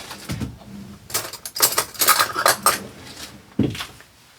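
Cutlery clatters and clinks in a few loud bursts as someone rummages through a kitchen drawer for a spoon, with short quiet pauses between the rattling handfuls.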